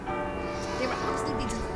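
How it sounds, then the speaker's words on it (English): Carillon bells ring at St. Colman's Cathedral in Cobh, Ireland, on a holy day, a steady layered chiming that carries across the harbour and sits beneath someone talking over it throughout. "You hear the bells, it's a holy day"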